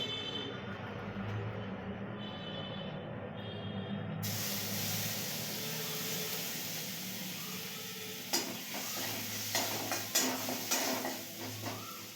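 Radhuni spice tempering sizzles in hot oil for a Bengali fish curry. A steady frying hiss grows brighter partway through, and scattered crackles and pan clatter sit over it.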